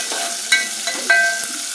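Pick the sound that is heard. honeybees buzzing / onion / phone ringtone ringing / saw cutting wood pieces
onion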